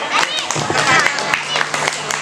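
An audience at an Isra Mi'raj event applauds Ananda Abrar after his winning religious talk, a brief burst of close, lively clapping with a little crowd noise.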